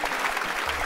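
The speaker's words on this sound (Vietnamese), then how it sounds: "Vỗ tay." Studio audience applause on a Vietnamese comedy show, a brief dense patter of clapping that lasts about a second at moderate loudness.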